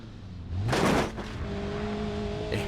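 A modern car with a CVT transmission in the BeamNG Drive video game sweeps up into a smooth, droning whine that settles into a steady, sustained tone, with a short burst of rough noise early on.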